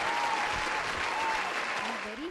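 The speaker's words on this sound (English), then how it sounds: "Please give her a big round of applause." An audience applauds a prize winner receiving a 32-inch LED TV, dense continuous clapping at steady loudness, with faint voices and a brief tone underneath.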